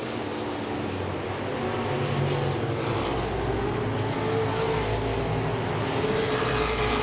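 Three modified race cars battle at Langley Speedway, their engines roaring loudly and continuously in a dense, rising drone as the pack runs close together.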